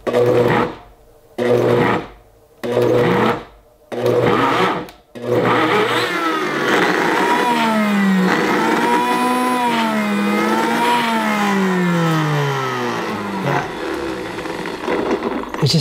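A Vitamix or Blendtec blender pulses nut butter: four or five short, loud motor bursts separated by gaps, then a sustained whirring run whose pitch rises and falls as the thick mixture resists.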